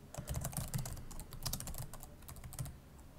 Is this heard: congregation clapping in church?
no